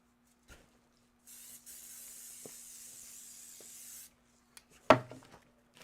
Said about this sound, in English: little bit of spray